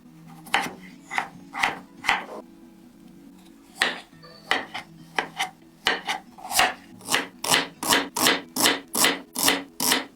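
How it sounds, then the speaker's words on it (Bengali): Ginger, garlic, green chillies and dried chillies are ground on a flat grinding stone with a steady back-and-forth rasp that speeds up into a fast, even rhythm of scraping strokes, close and alone. "এবার শিল্পাটায় আদা রসুন কাঁচা লঙ্কা শুকনো লঙ্কা বেটে নাও"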